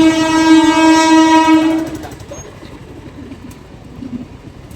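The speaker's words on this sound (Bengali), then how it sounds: "এই কি রাস্তার মাঝখানে ট্রেন?" A train sounds a long, loud, tonal horn close by, then the horn cuts off and the rumbling clatter of the train passing on the rails carries on at a lower level, with no voices.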